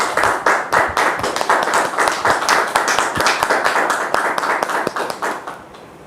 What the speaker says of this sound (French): On le reçoit avec nos applaudissements,